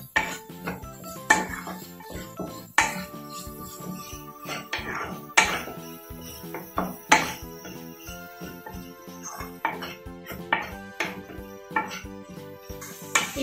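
A metal utensil scrapes and knocks against a pan while broccoli pepper fry is stirred and mixed, giving a steady run of clinks and clanks at a moderate, uneven rhythm.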